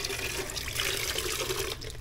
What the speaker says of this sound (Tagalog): So ngayon, kaya ako nagpapatulo ng tubig.